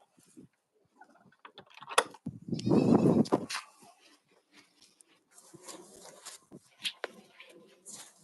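On a farm, a goat lets out one loud, drawn-out bleat up close, followed by scattered fainter bleats, rustles and soft background noises.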